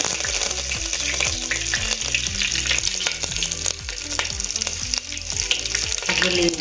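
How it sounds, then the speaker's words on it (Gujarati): Dried red chillies and curry leaves fry in hot oil for a South Indian rasam rice, giving a loud, continuous crackling sizzle with sharp spattering pops and the scrape of stirring throughout. "સૂકા 2 મરચાં છે એને એડ કરીશું। લીમડાને નાખીશું।"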